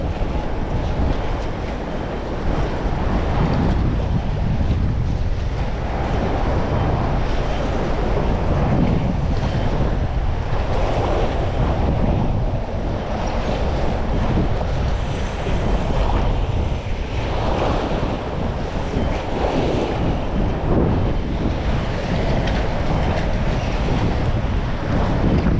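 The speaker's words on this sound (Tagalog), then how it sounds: "Mahirap po mag-content kapag yung ganito, yung malakas po yung hangin" Strong wind at sea buffets the microphone in a constant loud roar, mixed with waves and surf from a fishing boat, steady for the whole stretch with no talking.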